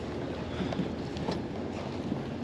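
Wind gusts across a boat out on open water, a low, steady rumble with soft buffeting against the microphone, fairly quiet and with no voices over it.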